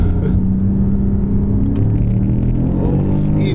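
A BMW M5 CS accelerates hard, its engine a loud, heavy continuous roar heard from inside the car, building in pitch with road rumble underneath.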